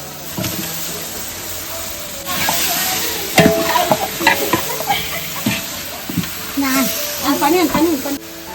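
Chicken and potato pieces sizzle and fry in a pan as a spoon stirs and scrapes, making a loud hissing and clattering close by while someone speaks over the cooking.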